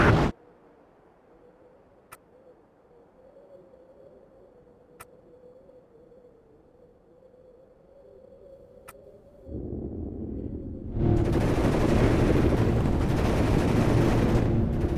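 A platoon opening fire in the WARNO strategy game: after a quiet stretch with a faint hum and a few isolated ticks, heavy sustained gunfire erupts near the end, loud and continuous.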